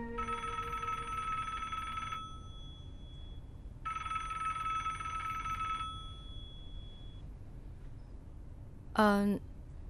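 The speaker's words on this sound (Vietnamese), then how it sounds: "Liên xài điện thoại kiểu gì á mà nãy giờ Tuyền gọi cho Liên mấy chục cuộc giờ mới chịu nghe máy" Two long bursts of an electronic telephone ring sound with a pause between them, followed by a short vocal exclamation near the end.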